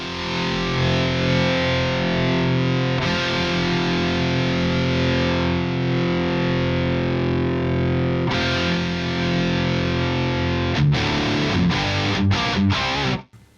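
A 1985 Marshall JCM800 2203 valve amp pushed into power tube distortion rings out as a loud, continuous, harmonically thick guitar tone, ending in a few sharp choppy strums before cutting off.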